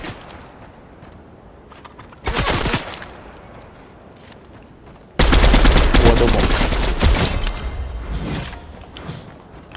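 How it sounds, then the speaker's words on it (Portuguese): Gunfire in Fortnite: a short burst of rapid shots, a pause, then a longer loud automatic volley, close and harsh, with faint game noise between the bursts. "Tá atirando em mim."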